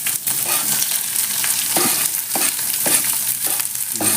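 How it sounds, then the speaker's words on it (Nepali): Curry leaves and onion frying in hot mustard oil, a loud steady sizzle broken by repeated stirring scrapes every half second or so, with no voices. "यसमा चाहिँ तोरी हालेपछि यो कडी पत्ता हालेर हामी यसलाई फ्राई गर्छौँ र त्यो पछि चाहिँ हामी ओनियन हाल्छौँ"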